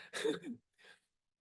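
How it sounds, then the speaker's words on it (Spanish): A single harsh cough close by, followed by a brief softer exhale, then silence. "a mí me da tos."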